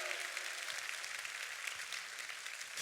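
A congregation claps in a church service, dense continuous applause that stays loud and even throughout without breaks.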